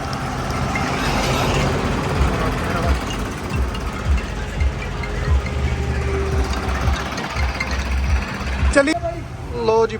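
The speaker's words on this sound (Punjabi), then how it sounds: "ਇੱਥੇ ਹੋ ਗਏ ਸਾਰੇ ਟਰੈਕਟਰ ਇਕੱਠੇ" Tractors gathered on a road during a sand-hauling run in Punjab idle together in a continuous heavy diesel rumble, with voices talking over the engines near the end.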